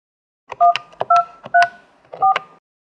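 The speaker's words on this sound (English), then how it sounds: "Please enter your PIN code, then press pound." A string of telephone keypad DTMF tones entering a voicemail PIN on a Yeastar P-series phone system: several short, clean beeps in quick succession, clear and isolated.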